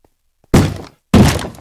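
Two loud, broad thumping bursts from fireworks launching in a Minecraft-style block game, the first after a short pause and the second just over half a second later, each with a quick decaying tail and no talk over them.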